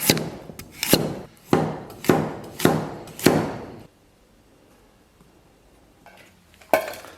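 A knife chops carrots into small slices on a board, five loud, evenly spaced thuds close up, then a quiet pause and a single final chop.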